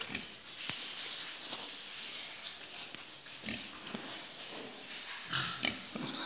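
Pigs grunt and snuffle in a farm enclosure, a steady mix of irregular low snorts and rustling against constant background noise, with a few louder grunts near the end.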